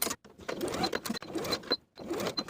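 A home sewing machine basting belt loops onto high-waisted A-line shorts with a 1/4 inch seam allowance, running in several short bursts of stitching separated by brief pauses, close and fairly quiet.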